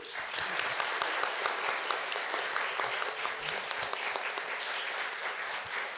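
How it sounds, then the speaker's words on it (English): Steady applause from an audience, many hands clapping densely and continuously for several seconds with no break. "Clapping first, yeah."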